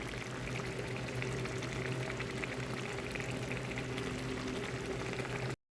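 A small fish curry with olives and tomatoes simmers in a pot, a dense, steady bubbling and light sizzling that holds at an even level close up before cutting off abruptly, with no voices.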